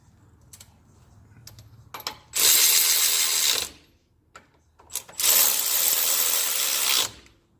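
A hand ratchet wrench clicks in two quick bursts of rapid, close ratcheting while torquing Jeep ring gear bolts, with light metallic taps and quiet gaps between.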